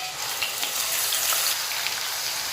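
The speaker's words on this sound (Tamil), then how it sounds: "இது லைட்டாக ஃப்ரை பண்ணிக்கோங்க." Ground onion paste frying in oil in a pan, a steady, close hiss and sizzle that holds throughout with no talking.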